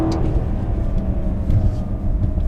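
An Alpina B7 in sport mode accelerates hard. Its engine gives a loud, close, sustained roar with a deep rumbling growl that holds steady throughout.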